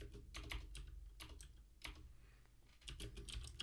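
Keys clatter on a computer keyboard as a terminal command is typed, coming in quick bursts of close, crisp clicks with short pauses between them and no voices.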